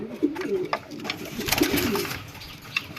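Pigeons coo repeatedly inside a loft, deep throaty calls from a displaying male mixed with soft wing and shuffling noises, close and clear with no talk.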